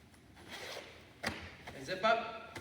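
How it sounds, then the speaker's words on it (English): A Columbia ski jacket being zipped up, giving short close zipper rasps in a couple of quick pulls, fairly quiet against faint background noise. "And zip up, and I'm almost ready."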